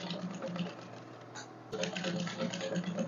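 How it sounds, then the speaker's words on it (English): A sewing machine runs close by, sewing a ball gown seam down at half an inch, a rapid steady mechanical patter that dips briefly midway and then picks up again. "I'm going to sew it down on 1/2 inch all the way round."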